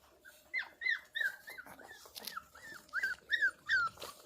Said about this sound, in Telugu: ఈ కుక్క రోజు నా దగ్గరికి వస్తుంది చూడండి.